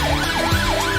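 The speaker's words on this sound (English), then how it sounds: "Test siren again now, make sure everything's okay." A police car siren is tested up close in a workshop, wailing loudly in a smooth rising and falling pattern over a low engine hum.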